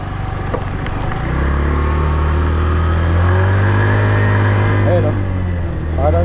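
A 2025 Rusi Passion motorcycle engine revs up close and loud, its pitch climbing in a long, sustained rise that is not quite smooth before easing at the end.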